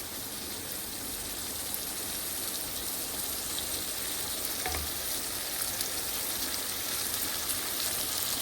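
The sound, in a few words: potatoes being sautéed in a pan for bitter gourd curry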